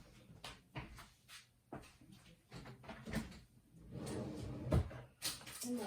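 A drawer holding envelopes is pulled open with a few quiet wooden knocks and slides, followed by soft rummaging, all faint and close.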